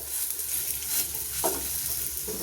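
Dosa batter frying on a hot flat tawa, a soft steady sizzle with a brief scrape of a spatula partway through, close and fairly quiet, no talking.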